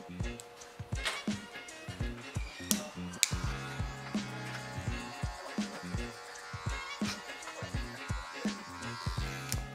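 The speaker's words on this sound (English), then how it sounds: "Now I'm gonna bring my number two guard back and continue this blend, clipper over combing right here in this area." Electric hair clippers fitted with a number two guard work clipper-over-comb on a short pixie haircut, making a quiet buzzing drone broken by quick, rhythmic ticking strokes throughout.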